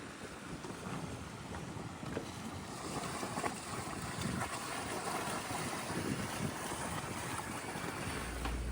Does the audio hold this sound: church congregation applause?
no